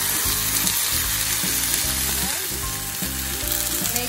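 Pork hock fries in a pan toward golden brown, a loud, close, continuous sizzle and crackle with a rhythmic low thumping pulse running beneath, no voice over it.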